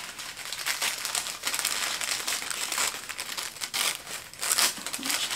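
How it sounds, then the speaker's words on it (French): Tissue paper around a jewelry package being unwrapped, crisp crinkling and rustling in bursts, close and soft with brief pauses between handlings. "c'est plié dans du papier soie qu'on va déballer ensemble"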